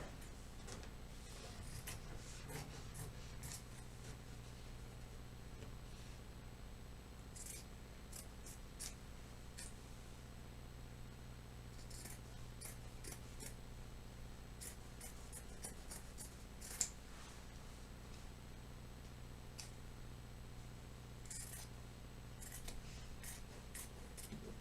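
Scissors trim fabric for a strapless corset bodice with princess seams, snipping quietly in short irregular clusters of crisp cuts over a low steady room hum.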